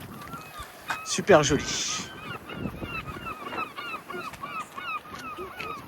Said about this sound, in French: Avec les bruits des mouettes.